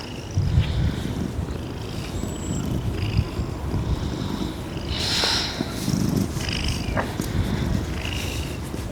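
A steady, rumbling cat purr continues close up throughout, with faint rustling and scattered high ticks over it.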